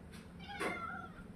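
A house cat in a village home gives a single clear meow while waiting near a family meal, close by and fairly soft, with quiet room noise before and after.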